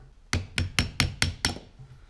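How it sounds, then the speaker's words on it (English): Six sharp, evenly spaced hammer blows strike pliers to knock a spring clip free during suspension repair on a 1993 C4 Corvette, close and loud in a quiet workspace. "Looks like I'll be hammering up. It's hammer time."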